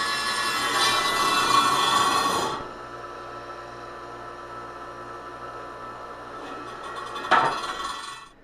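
A rebuilt table saw's pulley and belt spin with a loud mechanical whir and rattle that abruptly drops to a quieter hum, followed by a sharp metallic clack.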